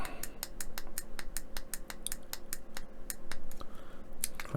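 Small buttons on a Fanhome Knight Rider KITT scale model are clicked repeatedly to set its clock, giving a quick, even series of sharp, close plastic clicks.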